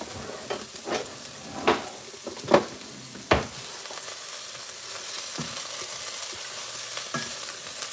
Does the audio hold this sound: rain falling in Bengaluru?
no